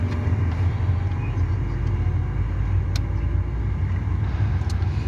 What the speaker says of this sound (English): while we're doing a test ride, although I'm sitting in the back right now